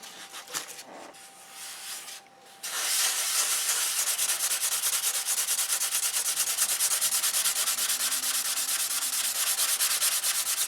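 Sandpaper on a soft block rubbing back and forth across a surface, 320 grit, with a steady, close hiss that turns loud and continuous after a brief quieter start.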